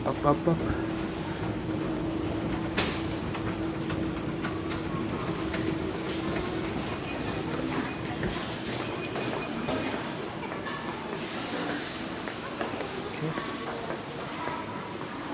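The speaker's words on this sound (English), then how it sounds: "We're actually inside of the train station right now." Busy indoor train station ambience in Tokiwadaira, Japan: a steady hum of crowd chatter, footsteps and mechanical drone, with occasional clicks and distant announcements, voices close by throughout.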